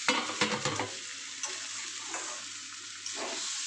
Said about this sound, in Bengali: এবার চালটা ভালো করে ভেজে গন্ধ বেরোনো অবধি